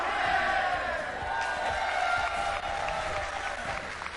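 A small crowd cheers and applauds energetically, with shouts and rhythmic clapping rising and falling throughout.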